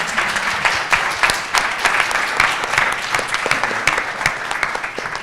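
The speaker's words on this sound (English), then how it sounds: "So can I get a big round of applause for our awesome panel, please?" A conference audience applauds a healthcare workshop panel, many hands clapping in a loud, fairly close, even patter with a few sharper individual claps standing out, no talking over it.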